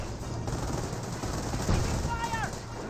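Gunfire in Company of Heroes fills a busy battlefield, a steady spread of shots with a brief louder hit near the middle and a falling whistle toward the end.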